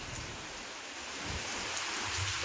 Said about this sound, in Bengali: আর এখন হচ্ছে হাওয়ার সাথে বৃষ্টি